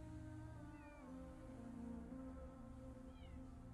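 A cat in the game CopyCat meows loudly and close, giving a drawn-out, wavering cry followed by a shorter meow near the end, with no talking.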